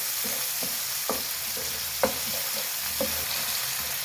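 Tomatoes frying in a pan, a faint continuous sizzle broken by a few distinct stirring taps and scrapes of a spoon, close and quiet with no talk.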